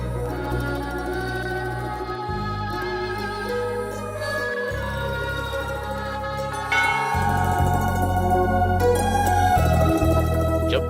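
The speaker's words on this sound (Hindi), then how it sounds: "घंटी बजेगी, घंटा बजेगा।" Bell tones ring out over a thick layer of music, steady and loud, with the backing shifting in sections and a brighter swell of chiming in the last few seconds.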